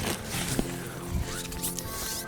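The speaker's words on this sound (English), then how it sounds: "This is gonna zip, and then it has a zipper coming down here to attach" A zipper on the wall of an overland rooftop tent on a Toyota 4Runner is drawn along in a quiet, close, continuous rasping pull, with faint outdoor background around it.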